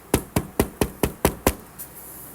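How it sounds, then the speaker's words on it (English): Sharp knocks on a wooden surface, seven in a quick, even rhythm, close and fairly loud, followed by one fainter final tap. "knock on wood"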